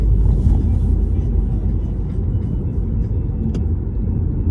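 Car driving through Belgrade city streets on a rainy day, a steady low road rumble and tire hiss continuing without pause throughout, fairly loud and close.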